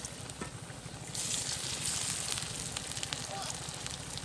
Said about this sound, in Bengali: একদম ডুবু তেলে ভিজিয়ে নেওয়া হচ্ছে।